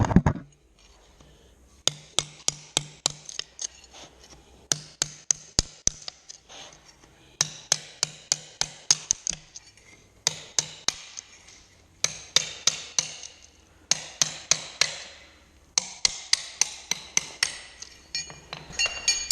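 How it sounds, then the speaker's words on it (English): Repeated sharp metallic taps and knocks of a sumo lifter being worked under baseboard nails to pry them out during a vinyl plank flooring job, coming in quick bursts of several strikes with short pauses between, close and loud. "I want to get my sumo lifter under the nails and actually work the nails out rather than in the center of the nails."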